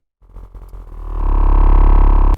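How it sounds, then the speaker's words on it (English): A Serum synth sub-bass layer with some mid-bass, no LFO movement, enters with a few rhythmic notes and then swells into a loud, steady, sustained deep bass tone, heard alone. "To end, there's also a sub-layer, and that one has also a bit of mid-bass in it, and it sounds like this."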